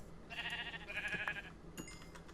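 A Minecraft sheep bleats twice, a wavering drawn-out bleat followed by a shorter one, close and clear with faint background noise.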